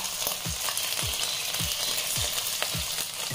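Ginger and garlic paste fries in a pan with spices, a steady close sizzle broken by regular scraping strokes of a spoon or spatula.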